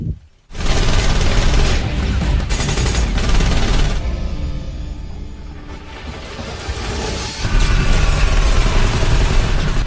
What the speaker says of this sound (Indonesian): Dan terjadilah baku tembak di ruangan Audrey Belikov.